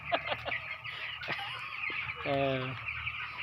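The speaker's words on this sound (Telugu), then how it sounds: "చూడండి కోడి పిల్లలు" Chicks clucking close by on a poultry farm, short repeated clucks and calls over a low background hum, with one longer tonal call midway.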